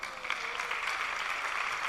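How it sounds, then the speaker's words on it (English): Warm audience applause at a live storytelling show in Nairobi, a steady, dense wash of clapping that holds evenly throughout without any voices over it. "Another warm round of applause for her."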